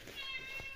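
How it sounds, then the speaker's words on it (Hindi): A cat gives one short, faint meow indoors, heard amid light household background noise. "हुन बिल्ली भी नाल आ गई"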